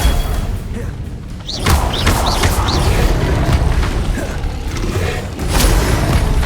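Levioso spell effects in Hogwarts Legacy: loud booming thuds and magical whooshes over a rumbling game soundscape, with several sharp impacts and short chirping tones, including a heavy hit near the end.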